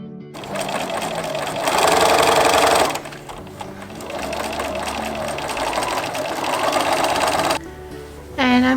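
A sewing machine stitches along one side of a project bag, running steadily and close, with a louder burst of faster stitching partway through and a brief stop near the end.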